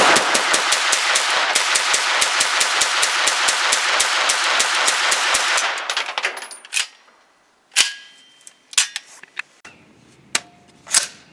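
A 9mm AR15-style pistol-caliber carbine fires a long rapid string of sharp, evenly spaced shots up close, then the firing stops and a few scattered metallic clacks and handling noises follow.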